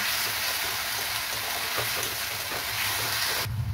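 Whole spices and tomato paste fry hard in a hot pan while cooking a red lentil and pumpkin dish, a dense, continuous loud sizzle with faint stirring scrapes that cuts off abruptly near the end.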